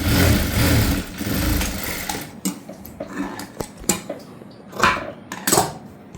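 A sewing machine stitches a prince-cut blouse with a steady close whir for about two seconds, then stops. Scattered clicks and taps of handling the cloth and machine follow.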